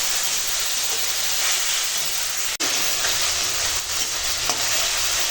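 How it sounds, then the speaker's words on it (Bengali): Spices with turmeric, chili powder and salt sautéing in a pan with a splash of water for a chicken and potato curry, a loud, steady, close hiss and sizzle with a single sharp click midway. "এখন দিয়ে দেবো হলুদের গুঁড়ো লঙ্কার গুঁড়ো আর দেবো স্বাদ মতো লবণ দিয়ে এখন কষাবো মশলার জন্য"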